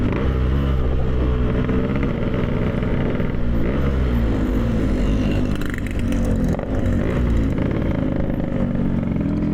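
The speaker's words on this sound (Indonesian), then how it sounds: "Panasin mesin kita guys." A Yamaha RX King 135cc two-stroke motorcycle engine warming up, its loud, close, steady rasping idle broken by repeated revs, with no voices over it.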